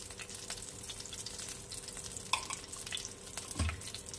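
A little ghee added to hot oil left over from frying magur catfish, giving a soft, close crackling sizzle with a few sharper pops and spatters.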